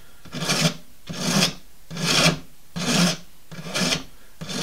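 Bone being carved into a fish hook, wedged in a carving cradle, gives six evenly spaced rasping strokes, each a broad, close scraping burst separated by short pauses, with no voices.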